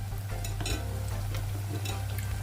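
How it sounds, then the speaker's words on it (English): Oil sizzles as plantains fry under a low hum, with scraping and light clinks of a utensil stirring in the pan. "So we're gonna be frying these until they turn nice and golden."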